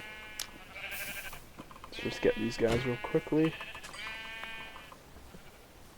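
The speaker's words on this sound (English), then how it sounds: "Oh, there's a bunch of sheep." Sheep in the game Minecraft bleat in several short, wavering calls clustered together, heard under someone talking.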